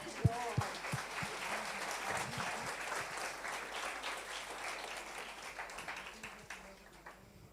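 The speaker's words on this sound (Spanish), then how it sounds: "Un aplauso para ellos." A church congregation claps together in a sustained burst of applause that starts strong and slowly fades toward the end, heard from within the room.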